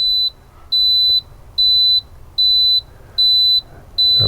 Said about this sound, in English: That would be the low oil pressure alarm